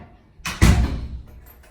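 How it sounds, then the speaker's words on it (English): A stiff door to a flat in a college residence hall being pushed open: a short scrape, then a heavier thud with a low knock, fading into a dragging rustle as it swings, close and alone with no talking. "we've got a door knocker and an electronic key to open the door"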